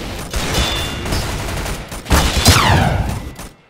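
Rapid bursts of submachine gun fire in the Roblox shooter Arsenal, dense overlapping shots from more than one weapon that swell louder midway, then trail off near the end.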